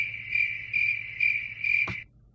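Steady cricket chirping in a rapid pulsing trill, fairly close and clear, ending in a brief sharp click near the end before fading to quiet.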